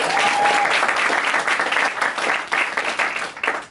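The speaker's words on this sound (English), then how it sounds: "Let's give it a big round of applause." A small group audience at a nutrition club applauds, brisk overlapping claps that stay loud at first, then thin out into scattered individual claps as the applause tapers off.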